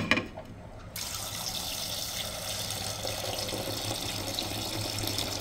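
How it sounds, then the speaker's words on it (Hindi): Tap water runs steadily into a sink or basin while tarli fish are washed for a Kokni-style recipe, a constant close splashing gush that starts just after a brief quieter moment. "अब हम दूसरे पानी से धोएंगे।"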